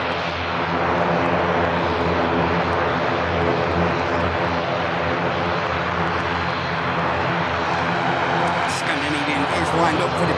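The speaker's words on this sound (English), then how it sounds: "lined up for departure now. And already on the takeoff roll." A Loganair aircraft rolls down the runway for takeoff at Manchester Airport, its engines giving a loud, steady roar that holds for the whole stretch while someone talks over it.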